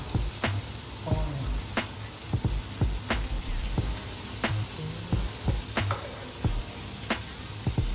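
Cabbage stir-fried with red onion in a pan for Penang nasi kandar, a steady close sizzle of frying with repeated sharp scraping taps of a spatula stirring at an irregular rhythm, no talking.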